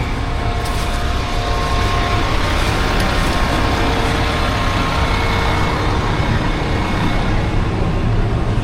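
A combine harvester's engine runs loud and steady during corn and bean harvest, a dense continuous rumble with a low drone that holds throughout.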